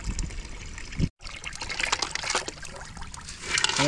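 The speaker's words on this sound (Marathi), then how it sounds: "खेकड्याच्या अर्काचं पाणी आता त्या मसाल्यात मिक्स करतोय" Crab extract liquid trickles and pours into masala in a pan in short wet splashes, close and fairly quiet, with a brief silent gap early on.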